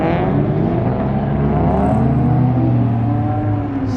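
Modified cars leaving a car show rumble and rev close by, a continuous loud engine drone with rising and falling pitch as vehicles pull away one after another.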